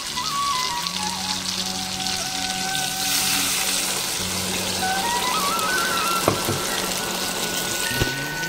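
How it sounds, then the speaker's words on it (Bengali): Water goes into a pan of frying potato, pointed gourd and paneer curry, and a loud, steady hiss and sizzle follows, with faint scraping and a couple of sharp clinks near the end. "এবার এর মধ্যে জল দিয়ে দেবো আমি।"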